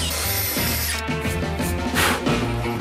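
A power drill whines and bites into material while boring 24 holes for a raft, its motor pitch rising and falling as it bores, loud and close.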